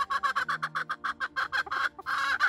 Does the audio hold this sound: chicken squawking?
yes